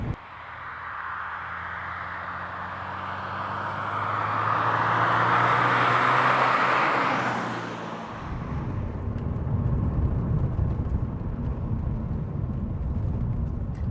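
A Porsche 944 Turbo accelerates hard in second gear with loads of wheel spin, engine and tyre roar swelling loud and close, then giving way abruptly to a coarser rumbling drive noise.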